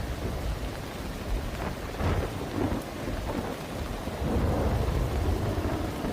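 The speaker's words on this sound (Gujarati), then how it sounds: "ધોધમાર વરસાદથી અનેક વિસ્તાર પાણીમાં ગરકાવ થઈ ચૂક્યા છે." A monsoon downpour in Ranavav, Gujarat, with flooded streets: dense, steady roaring rain and rushing water fill the air continuously, with deep rumbles swelling underneath and no voices.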